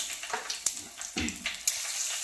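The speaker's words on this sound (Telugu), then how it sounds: "తిరగమాత అంతా వేగింది." Tempering of spices and curry leaves frying in hot oil for a ripe red chilli pickle, a soft steady crackling sizzle with a few sharper pops, close and fairly quiet throughout.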